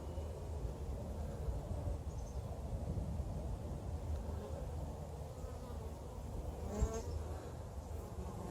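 Honeybees buzz continuously around a hive, a low droning hum close to the microphone with faint background wind; no one speaks.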